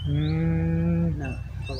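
Cattle trained for the Ratchaburi lan-bull sport give a loud, close, drawn-out moo followed by a shorter second call.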